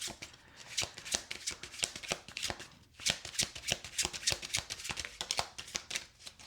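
Rapid crisp riffling of a deck of tarot cards, repeated in quick bursts with a short pause midway, close up and fairly loud.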